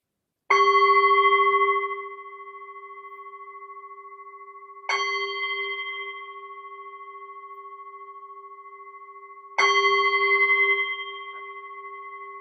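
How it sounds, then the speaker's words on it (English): A meditation bell is struck three times during a loving-kindness meditation session, each stroke a clear, ringing tone whose sustained hum fades slowly before the next strike, with no talking. "The sound of the bell invites our mind to come home, for the mind to be centered."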